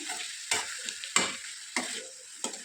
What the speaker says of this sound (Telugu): ఇప్పుడు కట్ చేసుకున్నటువంటి ఈ బీరకాయ ముక్కల్ని వేసుకోవాలి అంతా కూడా ఒకసారి బాగా కలుపుకుందాము